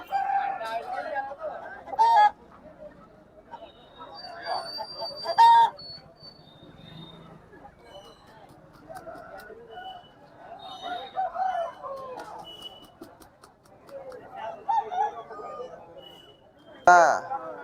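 Roosters at a busy country chicken market crow and cluck in short bursts among nearby voices haggling, with one sharp crow standing out near the end.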